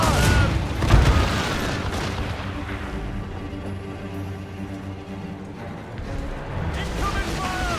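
Naval cannon volleys in Assassin's Creed Rogue, heavy booms rolling over a steady rumble of ship and sea ambience, loudest near the start and again toward the end, with game voices shouting over the battle.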